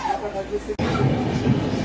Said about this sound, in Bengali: এই কাটোয়া জংশনে ট্রেন ঢুকছে